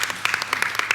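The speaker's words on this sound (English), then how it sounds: "Can we please give a round of applause for her?" Brief burst of audience clapping at a school board of education meeting, a small crowd applauding a student with quick scattered hand claps.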